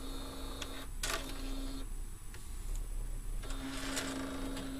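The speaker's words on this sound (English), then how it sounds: "Then we start printing." Desktop inkjet printer fitted with a continuous ink supply kit, running a print job: a steady mechanical hum with a sustained tone, carriage movements and brief whirring bursts, moderately close and without talk.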